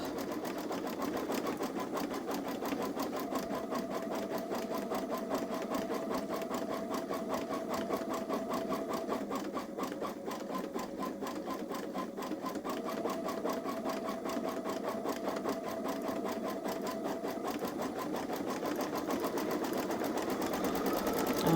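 Baby Lock Solaris 3 embroidery sewing machine stitching angel wings and lettering, a continuous fast rhythmic whirring and clatter with a faint motor whine that carries on steadily without pause.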